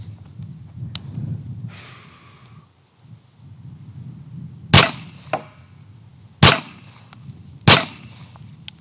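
Handgun shots fired strong hand only at a target on a range, three sharp, loud cracks spaced about a second or more apart, with quieter rustling and low background rumble between them.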